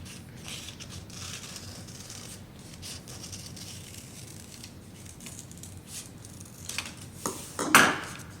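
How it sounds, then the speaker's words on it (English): Scissors snip through folded black paper to cut out circles for a craft, giving soft, faint crisp cuts and light rustling, with one louder, sharper snip near the end. "I'm just gonna cut two black circles"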